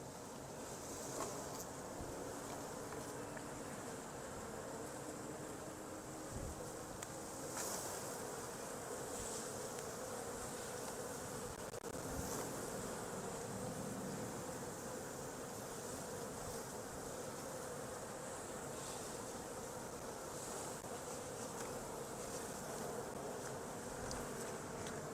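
A swarm of honeybees hums continuously and close by while being hived outdoors, a steady dense buzz that runs unbroken throughout.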